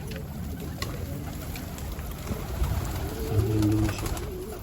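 Domestic pigeons coo softly in a loft or rooftop setting, a few low, rolling calls rising over a steady outdoor background toward the end.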